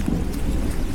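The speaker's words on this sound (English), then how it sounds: "A huge downpour." Heavy rain pouring down with thunder, a dense steady roar of downpour with low rumbling underneath, loud and continuous.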